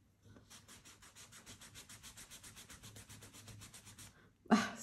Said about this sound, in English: I don't think you can erase them with a kneaded eraser